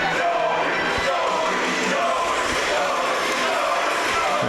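A home crowd cheers loudly and steadily at a Shiloh Christian high school volleyball match against Washburn, a dense, unbroken roar of many voices filling the gym.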